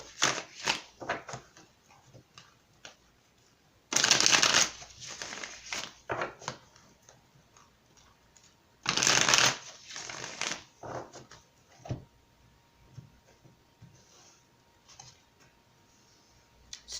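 Tarot cards are riffle-shuffled up close in two short, crisp bursts, separated by quieter taps, clicks and card handling.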